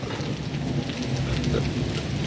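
Heavy rain pours steadily during a stormy hailstorm in Bagasara, with a constant dense roar and low rumbling thunder and wind beneath it, loud and unbroken throughout.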